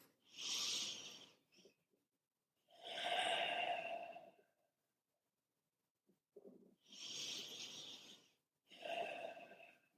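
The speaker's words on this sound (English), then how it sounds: "Just 2 breaths like that" Deep, slow breathing demonstrated as a calming exercise, with several long, airy inhales and exhales separated by pauses, close and fairly quiet with no talking.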